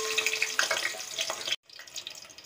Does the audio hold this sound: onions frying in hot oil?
yes